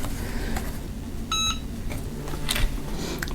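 A sublimation heat press for transferring a design onto textile beeps to signal the end of its cycle: a short, bright electronic tone sounding over a steady low background hum, with faint clicks afterward.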